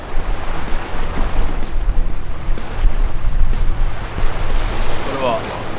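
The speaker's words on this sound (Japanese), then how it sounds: "今風的にはですね、若干の向かい風、ちょっと右斜め前から吹いてるような状況ですね。" A light headwind gusts steadily at the shoreline during a fishing rod casting test, a broad, constant rush of wind buffeting the microphone over faint surf.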